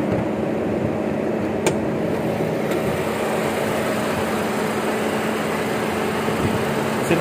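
A 2013 Mercedes C200 engine idles steadily in an open bay, a constant low hum with a faint mechanical whir, close and unbroken, with no voices.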